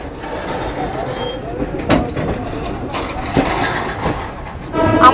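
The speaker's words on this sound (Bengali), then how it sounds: "আমাদের ট্রেন এখন পাস করছে জলন্ধর ক্যান্টনমেন্ট থেকে।" A passenger train running through Jalandhar Cantonment station gives a steady rumbling, clattering roar with periodic clanks and rattles of wheels over rail joints, heard close from inside the moving carriage.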